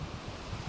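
Wind blowing on a windy day around a Mirador Solid 80 pergola lashed to a railing: a steady, rough broadband rush of wind buffeting the microphone throughout, with no talking.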